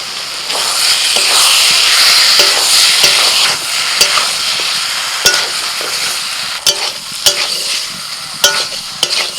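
Potato, soybean and jackfruit stir-fried in spice masala in oil, a steady loud sizzle and hiss with repeated sharp scrapes and clacks of a spatula against the pan, close up.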